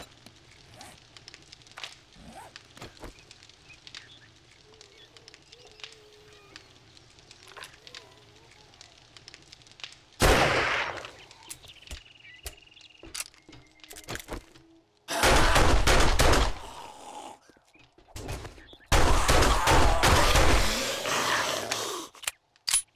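Rifle gunfire in the video game 7 Days to Die: after a quiet stretch, a sharp shot rings out, followed by two loud bursts of rapid firing, with a voice talking in between.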